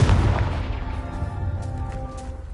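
A Confringo fire spell explodes with a heavy boom in the Hogwarts Legacy video game, opening on a loud blast that rumbles and fades over a couple of seconds.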